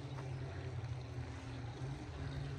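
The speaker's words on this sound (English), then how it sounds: "I hear a boat ripping and roaring." A motorboat engine drones steadily in the distance beyond a garden with a running fountain, a low continuous hum under outdoor ambience.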